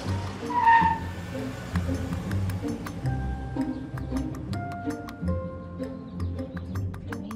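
A taxi chases another car through city traffic, its tires squealing in a sharp skid early on over a steady engine and road rumble, with passing horns and faint clinks.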